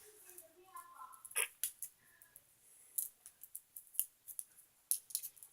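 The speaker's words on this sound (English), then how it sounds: "I want to do one more thing with the scissors and the fidget spinner." Scissors are handled together with a fidget spinner, giving sharp metallic snips and clicks in irregular bursts, close and quiet, with faint brief voice-like sounds early on.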